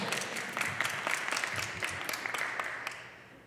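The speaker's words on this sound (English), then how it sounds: "You can clap if you want." An audience at a jazz-in-worship event at Pittsburgh Theological Seminary claps in a moderate wash of many hands with some distinct sharp claps, gradually fading toward the end with no talking.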